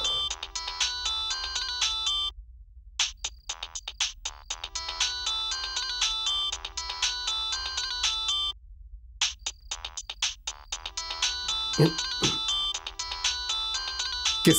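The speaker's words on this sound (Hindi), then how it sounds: "किसका फोन बज रहा है?" A mobile phone ringtone plays loudly, a repeating electronic melody with two brief pauses before resuming, and a short thump near the end.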